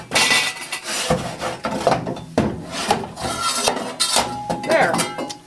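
Metal tool scraping against the side of a wood cook stove oven, repeated rough rasping strokes in an irregular rhythm with occasional clinks, close and fairly loud.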